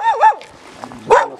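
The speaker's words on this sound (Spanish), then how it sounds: "Los perros bravos." Aggressive dogs give two quick close barks, a pause with faint rustle, then another sharp bark, loud and near in a rural setting.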